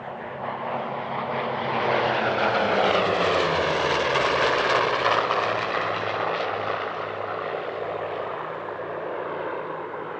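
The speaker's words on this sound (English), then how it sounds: "Now the Flying Bull's Corsair joins up with a second F4U, this time from the Amical Jean-Baptiste Salis and flown by Edmund Salis." Two F4U Corsair piston-engined fighters fly in formation at an airshow, their propeller engines swelling to a loud, throaty drone as they pass close by, then fading slightly as they move away, with no voices.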